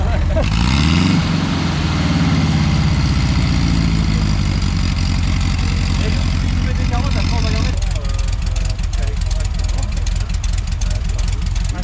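A cold car engine idles with a steady, low rumble throughout, while people talk over it nearby.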